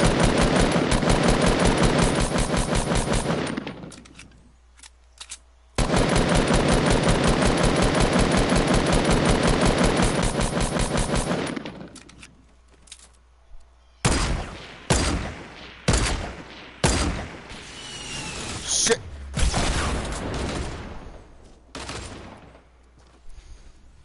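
Two long, loud bursts of rapid automatic fire in a Fortnite squad match, separated by a short pause, followed by a string of separate, sharper single shots at uneven intervals.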